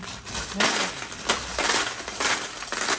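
Coins cascade and clatter inside a high-limit coin pusher machine, a series of loud, crashing bursts as piles spill over the edge, one rush right after another.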